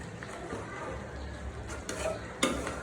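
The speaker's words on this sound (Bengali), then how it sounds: "আমি এই পর্যায়ে দিয়ে দিচ্ছি কাঁচামরিচ" Beef rezala sizzling and frying in a pan as green chillies go in, a steady close crackle with a few stirring scrapes and utensil clinks toward the end; no speech.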